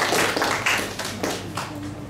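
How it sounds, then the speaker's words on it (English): Conference audience clapping in a burst of applause, a dense crowd of hand claps sustained throughout, fairly loud and close, with no talk over it. "Give yourself a round of applause for being here"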